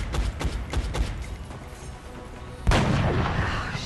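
A soldier's rifle fires in the XCOM: Enemy Unknown video game, a rapid burst of sharp gunshots that fades, followed by a heavier, booming report with a lingering roar.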